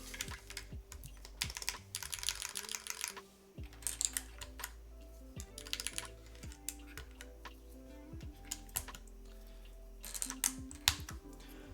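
Mechanical keyboard fitted with a GMK keycap set, typed on in steady clacking bursts close up, some fast runs and brief pauses, with no voices over it.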